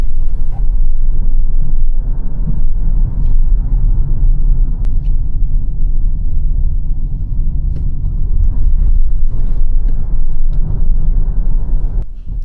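A Li Auto L6 driven hard on a mountain road, a loud steady cabin rumble of tyres and road noise with occasional small thumps, continuous throughout.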